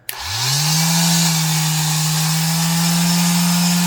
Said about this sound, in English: on a sander it needs a new lower bearing because it'll make kind of a loud sound, and that's the bottom bearing